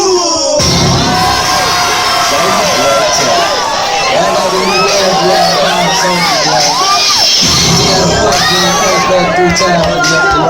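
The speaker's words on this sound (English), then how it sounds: "The more you cheer, the more they get into it." Loud crowd of students at a grad night hypnotism show cheering, whooping and shouting continuously, with children's voices and excited screams layered over music.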